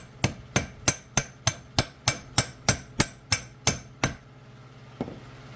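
A transmission pump main seal on a Chrysler A-518/46RH is driven in with a big socket and a hammer: about a dozen sharp metallic strikes land at an even, quick pace, followed after a pause by one lighter tap.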